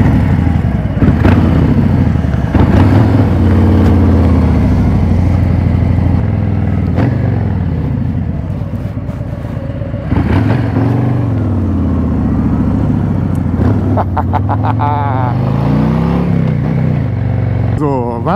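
A loud Harley-Davidson Fat Boy motorcycle with a 114 cubic inch engine rumbles steadily, with several revs rising and falling over a deep idle throughout.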